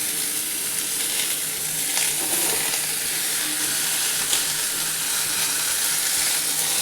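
Potato and pointed gourd fry together in a pan, a dense, even sizzle running steadily throughout with occasional faint stirring clicks, close up and free of speech.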